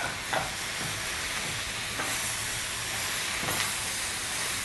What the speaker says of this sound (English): I'm just going to give this a quick stir,